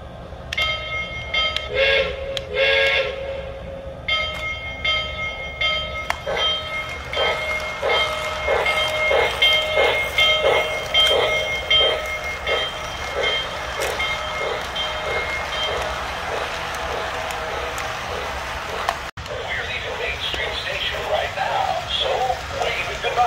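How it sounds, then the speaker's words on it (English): Walt Disney World Railroad train running on a grand circle tour of the Magic Kingdom, a steady rumbling ride with a bell-like tonal ring near the start, continuing under background chatter for the whole stretch. "We're about to take a grand circle tour of the Magic Kingdom"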